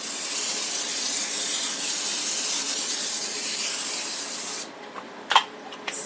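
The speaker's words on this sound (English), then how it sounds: "I'm going to go ahead and spray my dish." Cooking oil spray hisses onto a baking dish in one long continuous burst lasting several seconds, then a few short clicks and taps follow as the spraying stops.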